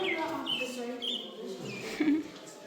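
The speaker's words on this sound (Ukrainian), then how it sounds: "Також тут можна нажимати і почути звук цих пташечок." Several short chirping bird calls, rising and falling whistles from a museum exhibit's push-button speaker playback, repeating at intervals with some talk mixed in.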